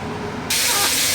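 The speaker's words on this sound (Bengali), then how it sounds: "আলুটা আমি দিয়ে দিয়েছি আর এর সাথেই একবারে ভেজে নিচ্ছি" Potatoes drop into a pan of hot oil, already holding fried lentil dumplings, and a bright, loud sizzle bursts up and holds steady after a quieter stretch of background noise.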